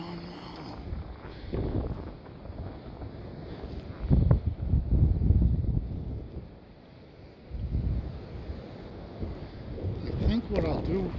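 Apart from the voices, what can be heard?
blizzard wind during a snow storm in Buffalo, New York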